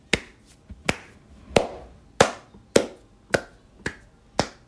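Eight sharp hand claps ring out one by one at a slow, steady pace, each crisp and close with a short decay.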